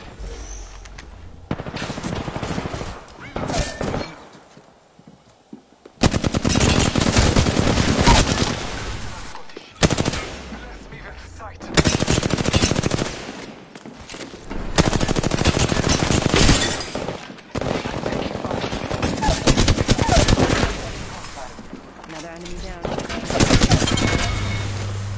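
Rapid automatic gunfire from the Apex Legends video game, loud bursts of sustained firing separated by brief pauses, with game voice lines spoken between volleys.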